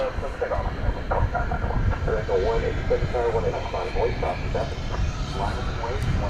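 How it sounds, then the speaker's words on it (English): A jet airliner roars on its takeoff run at DFW Airport, a broad, steady engine rumble heard from a distance with someone talking over it throughout. "So we got takeoffs happening."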